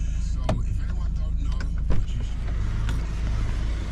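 A car rolls up and idles close by on a London street, a low engine rumble running throughout with a couple of sharp clunks and knocks along the way.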